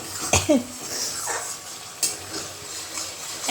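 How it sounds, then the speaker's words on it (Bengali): Spice paste with salt and turmeric being fried and stirred in a pot for a village-style fish curry with potatoes: steady close sizzle with scraping utensil strokes and clinks, one sharp knock near the start. "এই যে নুন দিয়ে দিয়েছি, হলুদ দিয়ে দিয়েছি, এবার ভালো করে কষিয়ে নিচ্ছি"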